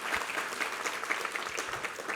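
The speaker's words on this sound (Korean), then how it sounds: "우리 하나님께 감사와 영광의 박수 올려드리겠습니다" A church congregation at a Sunday service applauding steadily, many hands clapping in a dense, even patter with no voices on top.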